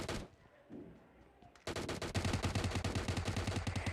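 Gunfire in PUBG Mobile Lite, a few isolated shots, then a loud sustained burst of rapid automatic fire close by.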